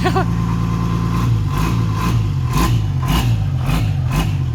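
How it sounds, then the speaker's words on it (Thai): An Isuzu TX truck's large engine idles close by with a low rumbling throb, punctuated by repeated sharp clanks or bursts at a steady rhythm. "โอ้เสียงเครื่อง"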